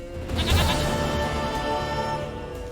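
A goat in The Witcher 3 lets out one long, loud, wavering bleat right up close, filling the whole moment alone.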